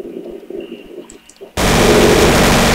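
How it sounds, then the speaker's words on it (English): A jeep blows up in a first-person shooter video game: a loud, sudden broadband explosion bursts in after a quieter stretch of game sounds and holds as a dense roar to the end. "Isaac, your Jeep got wrecked"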